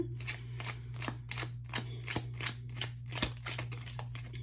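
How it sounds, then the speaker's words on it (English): Tarot cards shuffled by hand in a quiet room, a steady run of soft riffling bursts about every half second, close and fairly faint, with no talking. "Sorry to keep you waiting while I shuffle here."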